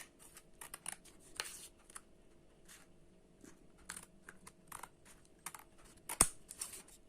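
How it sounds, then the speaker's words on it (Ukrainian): Scissors snipping away excess double-layered cardboard, a series of small, close, irregular clicks and cuts, quiet and with no talk. "Зайве я обрізаю."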